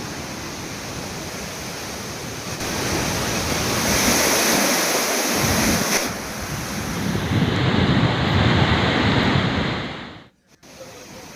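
Water released from the Gosikhurd dam gates at about 2,500 cusecs makes a loud, continuous rushing roar that swells and holds steady, then drops away briefly near the end.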